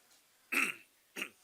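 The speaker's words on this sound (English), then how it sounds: "Now, I need you to clear your throat." Two short throat-clearing rasps, one louder than the other, in an otherwise quiet room.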